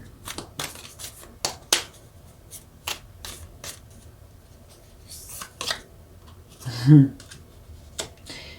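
Tarot cards being shuffled by hand, a run of crisp riffling bursts and flicks close up, with a louder rustle near the end.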